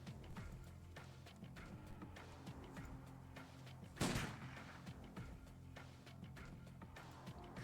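Gunfire in the tactical game Urban Strife, faint scattered shots ticking throughout, with one louder, sharper shot standing out midway.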